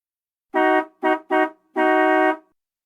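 A car horn hoots four times, three short blasts followed by one longer one, loud and close, with nothing else in the background.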